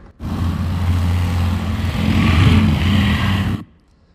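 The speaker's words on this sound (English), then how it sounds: "a motorcycle racing through the street," An engine roars steadily for about three seconds, revving slightly louder midway before cutting off abruptly, close and loud.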